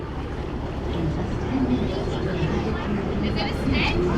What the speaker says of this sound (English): It's the boat to Wilderness Lodge.